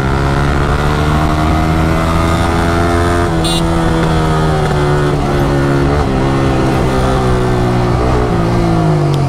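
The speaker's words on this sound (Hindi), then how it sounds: "जब ये पटाखा निकलते इस गाड़ी से मजा आता है।" A car engine idles and revs with a rough, throaty exhaust note, holding steady tones that rise and dip, with a few sharp pop-like bursts from the exhaust; loud and close.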